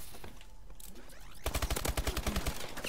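Gunfire in Call of Duty: Advanced Warfare, a rapid automatic burst of shots after a quieter stretch of game noise, fairly faint overall with no talk.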